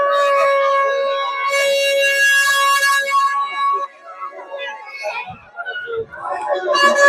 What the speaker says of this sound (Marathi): नुसत्या भोंगांचे आवाज.